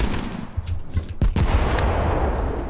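Gunfire and grenade blasts in the Timequake shooter game, a dense burst of shots with a heavy boom near the middle and sustained loud battle noise after it.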